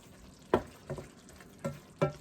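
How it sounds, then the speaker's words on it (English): Apples soften in a hot skillet with a faint low simmer, broken by four distinct scraping stirs of a utensil against the pan at irregular intervals. "You can just kind of hear it cooking."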